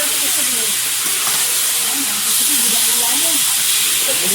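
Chicken meat added to a hot pan of oil after light frying, giving a loud, continuous hiss and sizzle that swells partway through, with faint voices underneath.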